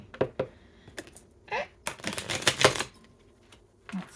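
Playing cards shuffled by thumb, with irregular clicks and a dense fluttering riffle burst in the middle, close and fairly loud, followed by a few scattered taps.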